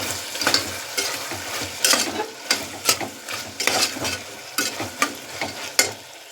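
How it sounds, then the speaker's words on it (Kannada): Vegetables with salt and turmeric stirred in a hot pan, a rhythmic run of scraping strokes and soft clatter from a spatula over a light sizzle, close and without voices. "ಇವಾಗ ಇದನ್ನು ಚೆನ್ನಾಗಿ ಮಿಕ್ಸ್ ಮಾಡ್ಕೊಳ್ಬೇಕು"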